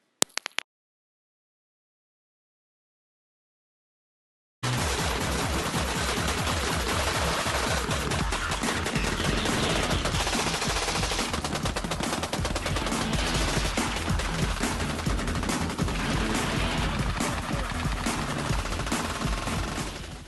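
After a short burst and a few seconds of silence, a Gatling gun fires continuously for about fifteen seconds, a loud, dense, rapid rattle of shots with no voices.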